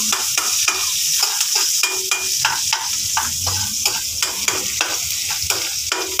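Chopped garlic sizzles in hot cooking oil in a pan with repeated scraping stir strokes, a steady close fry with a rhythmic pattern of utensil clicks and no talk.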